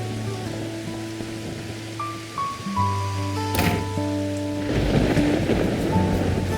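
Steady rain falls with rolling thunder in a farming video game, playing alongside soft in-game music tones, with a louder crack of thunder midway and the rain swelling toward the end.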